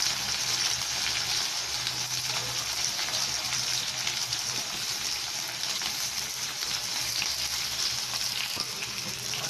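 Mashed boiled potatoes sizzling in a pan of oil and popped mustard seeds, a steady, dense frying hiss that stays close and even throughout with no talking.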